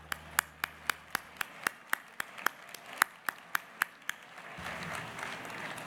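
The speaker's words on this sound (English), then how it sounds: "How about a round of applause for that work?" Audience applause at the NGBG2017 event: a run of about fifteen sharp, evenly spaced claps near the mic, then a broader wash of many hands clapping together toward the end.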